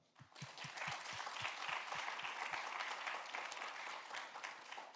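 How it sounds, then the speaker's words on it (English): An audience gives a sustained round of applause for association helpers at a live-streamed event, a dense steady wash of many hands clapping throughout, with a few louder claps at the start. "So big round of applause for them."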